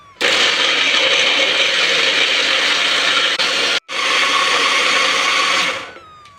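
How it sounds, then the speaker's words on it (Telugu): A kitchen mixer grinds strawberry milkshake with ice cubes and strawberry ice cream, a loud steady roar that cuts out briefly, restarts, then stops near the end. "ఇప్పుడు దీన్ని మిక్సీ చేసుకుందాం."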